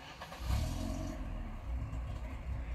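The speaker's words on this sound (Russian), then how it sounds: "Двигатель запускается на малых, работает. На оборотах начинает глохнуть." An off-road vehicle's engine cranks and catches in a dark forest, then settles into a steady, fairly loud low rumble with some clatter, heard close up with no talking.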